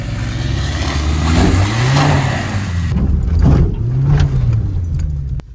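A Peugeot 406 estate with original, unmodified mechanics drives off-road through deep ruts, its mid-pitched engine droning and revving up and down close by, with rattling body and jangling bits throughout.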